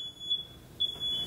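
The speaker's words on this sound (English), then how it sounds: "There's the second smoke detector." A second piercing smoke alarm beeps in short repeated bursts during a house chimney fire, a steady high electronic tone cutting in and out against a quiet background.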